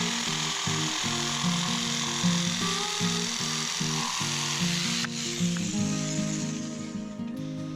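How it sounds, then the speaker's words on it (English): A saw cuts wooden pergola rafters to length, making a steady, continuous grinding buzz that runs unbroken throughout, close and fairly loud, with no one talking. "start by cutting the rafters to length and then adding a decorative end treatment."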